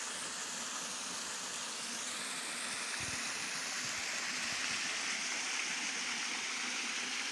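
Flowing water with moss nearby, a soft continuous rushing and hissing stream heard alone at a moderate distance, steady throughout.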